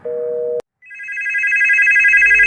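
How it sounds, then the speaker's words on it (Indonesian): A cordless home telephone rings loudly and close by in a film scene: a short steady tone cuts off, then a continuous warbling electronic ring swells and holds. "tiba-tiba telepon rumah nirkabel berbunyi"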